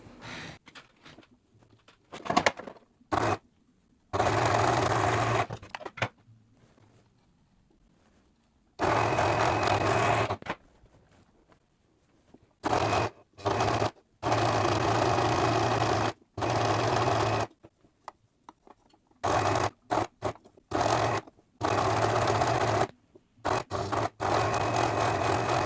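Sewing machine stitches the shoulder and neckline of a twist front summer top in repeated runs, a loud close whirring hum that starts and stops many times with short silent pauses between stretches of sewing.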